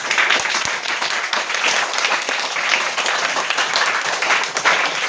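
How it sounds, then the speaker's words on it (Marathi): A class of fifth-grade students in a village primary school claps loudly together, a dense, energetic burst of many hands that carries on steadily without a break and with no talk over it. "टाळ्या वाजवा जोरात"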